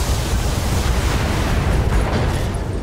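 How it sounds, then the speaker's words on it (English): Sustained heavy cannon fire from an ultra autocannon in the BattleTech game, a dense, loud, continuous rumble of blasts with no clear gaps, alone without talk. "I just want to go ahead and use that ultra auto cannon again."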